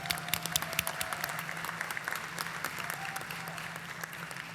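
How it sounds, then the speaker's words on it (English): Audience applause greets the announcement of the 2025 Maryland Teacher of the Year at a ceremony, with many hands clapping in a dense, sustained burst with sharp individual claps standing out, and no talk over it. "Clap for Kat"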